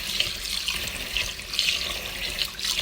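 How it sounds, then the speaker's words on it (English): Rice being washed under a running kitchen tap, a steady close hiss of flowing water with soft splashing and swishing as the grains are rinsed. "So first step, we will wash our rice."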